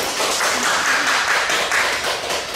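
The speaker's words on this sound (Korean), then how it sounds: "한번 박수로 우리 환영해 주십시오" Church congregation clapping to welcome a mother and son back to Sunday worship, a steady dense patter of hands filling the room for a couple of seconds.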